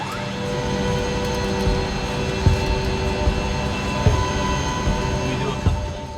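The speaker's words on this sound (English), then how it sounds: "As the plane was getting powered up and the firefighting base was kicking into action" A firefighting air tanker plane's auxiliary power unit spools up at a fire base, giving a steady loud broadband whine and rumble with a few faint knocks, continuous throughout.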